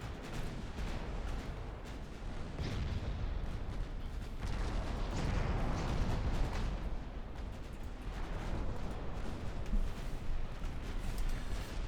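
Warship 3-inch guns fire in the Ultimate Admiral Dreadnoughts naval battle game, a dense, continuous roar of overlapping booms and rumbling explosions at moderate loudness with no voices.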